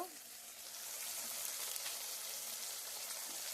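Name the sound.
spice masala frying in pan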